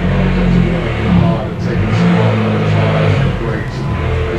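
A remapped Abarth car engine revs loudly as the car arrives, a steady, close, roaring drone with rising and falling swells throughout, and voices faintly underneath.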